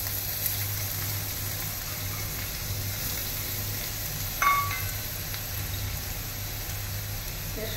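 Carrots frying in a pan with cardamom, cloves and cinnamon for paneer fried rice give a steady, low sizzle throughout, with a brief clink partway.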